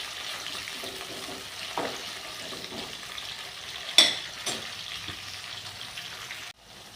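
Sliced onions, tomatoes and green chillies frying in a pan for a grandmother's fish curry, giving a steady soft sizzle with occasional stirring scrapes and one sharper clink near the end, no voices.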